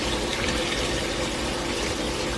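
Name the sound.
water poured into pot of Jamaican oxtail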